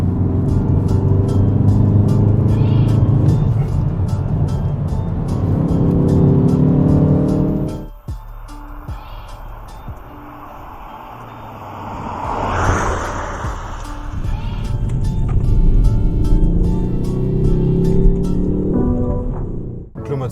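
A Ford Focus ST in sport mode revs hard and accelerates, with a loud raspy engine note and a sharp drop at a gear change or lift-off. It then builds again into strong, close acceleration, and no one speaks over it.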